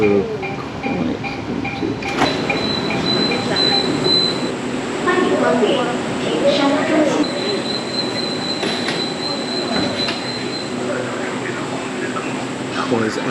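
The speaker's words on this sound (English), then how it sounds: "there's our interface with line 14. We'll just see the train go." Metro line 14 train passing by at an elevated transit interface, with rolling rail noise, clattering wheels and high squeals throughout, a voice talking over it.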